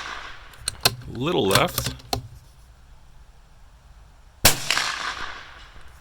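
Free-recoiling rifle shots at 8-inch and 10-inch steel targets, two sharp cracks several seconds apart, each trailing into a ringing outdoor decay, with a short spoken phrase between them.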